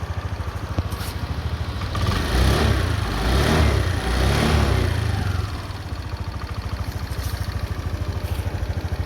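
A Honda Dio 110cc scooter idles steadily close by, a low even putter that swells briefly as the engine picks up slightly, then settles back to a quiet, smooth hum with no voices.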